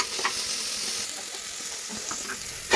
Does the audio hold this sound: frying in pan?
yes